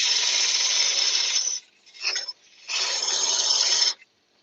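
Turning tool cutting wood on a lathe while shaping a bud vase; two loud, scraping cutting passes with a brief rough burst between them, then silence.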